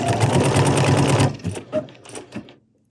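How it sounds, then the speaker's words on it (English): A Bernina sewing machine stitches decorative stitches in a loud, steady whir for just over a second, then stops, leaving a few quieter clicks and small handling noises before near silence. "And now I'm going to just stitch."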